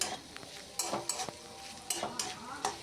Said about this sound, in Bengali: এভাবেই আবার কিছুক্ষণ আদা রসুনের সাথে আলু, টমেটো, কাঁচা লঙ্কাকে ভালো করে নেড়ে চেড়ে কষিয়ে নেব